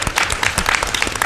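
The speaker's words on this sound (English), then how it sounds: "please applaud Jeff" An audience at a League of Women Voters candidates forum in Mason County applauds, a brief, dense burst of clapping from many hands filling the room.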